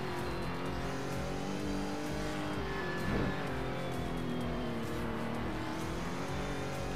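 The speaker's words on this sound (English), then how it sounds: "as we go into turn 2, I weirdly enough decide to brake and downshift instead of just lightly letting off" A race car in a Roblox racing game brakes and downshifts into a turn, its engine droning loud and continuous with shifting revs and a brief surge midway, no talk over it.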